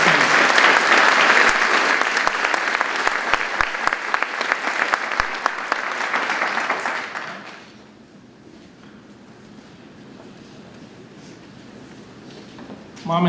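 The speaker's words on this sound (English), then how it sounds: "Another round of applause to all the students and their essays." A Veterans Day ceremony audience gives students a round of applause for their essays, loud dense clapping that holds for about seven seconds, then stops abruptly, leaving quiet room tone.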